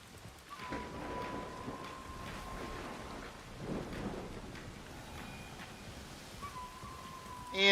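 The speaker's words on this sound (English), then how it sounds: "And it's gotten all rainy." Rain falls steadily in the video game Assassin's Creed Shadows, with low thunder rumbling through a continuous wash of downpour and a faint sustained tone drifting above.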